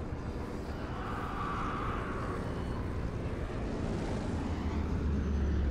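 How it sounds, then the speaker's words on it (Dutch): A plane falls from the sky in the zombie video game Dying Light. It makes a steady, broad, rumbling engine roar that holds at an even level throughout and swells slightly toward the end, with no talk over it. "Er valt weer een vliegtuig."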